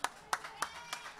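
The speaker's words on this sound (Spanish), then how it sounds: "Un aplauso para Víctor." A few sparse, separate handclaps at a small club concert, roughly four or five sharp claps spaced evenly, fairly quiet with no crowd swell.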